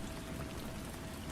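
Steady rain falling, a soft, even hiss of drops spreading across the whole clip with no breaks and no voices.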